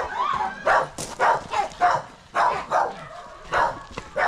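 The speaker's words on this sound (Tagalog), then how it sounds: "May aso nga eh." A dog giving a series of sharp, yappy barks, roughly eight bursts over a few seconds, moderately close with slight whimpering tones between them.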